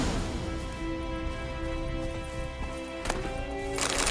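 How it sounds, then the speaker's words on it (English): Horse hooves clopping in a medieval fantasy RPG video game, a steady run of hoofbeats under continuous ambient game sound, with a sharper knock near the end. "I'll ready our horses."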